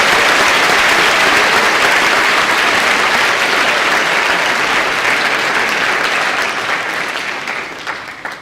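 An audience at a high school language department awards ceremony gives loud, sustained applause for fifth-year award recipients, dense clapping that holds steady and then thins out toward the end.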